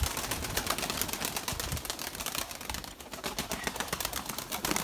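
White Erzurum pigeons cooing softly in a dense, noisy coop, with a continuous rustling texture and faint repeated calls.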